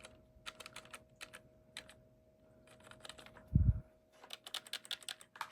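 Keys clacking on the keyboard of an old Dell Dimension 4300 desktop, irregular bursts of close, crisp presses with pauses between them and a single louder thump midway, over a faint steady hum.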